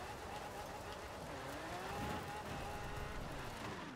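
Powerful car engine in the racing game Forza Horizon 4, a steady loud revving drone with pitch slowly rising and falling, heard alone without talk.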